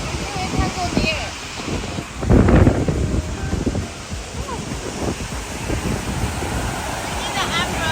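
Spray from New York's biggest waterfall falling like rain, a broad hissing wash with wind buffeting the microphone and a louder gust of spray midway, while people talk over it.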